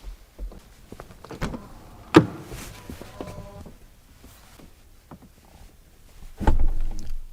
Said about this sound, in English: Soft closing doors.